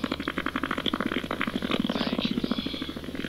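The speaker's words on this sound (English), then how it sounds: "Wheel of Fortune farting right there." A rapid, rattling sputter of flatulence clicks on continuously for several seconds at a close, moderate level, its fast ticking rhythm resembling a spinning prize wheel, with no speech over it.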